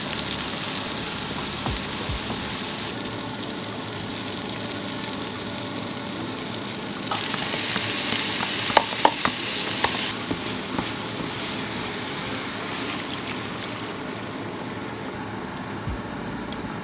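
Onions hiss and sizzle steadily in a hot pan, a constant crackling fry with occasional clinks of a utensil stirring, close and fairly loud with no talking.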